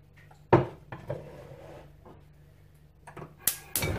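A frying pan lifted out in a home kitchen, with a sharp metallic clank, a few softer knocks and rattles, then two loud bangs of cookware near the end, close and with no talking.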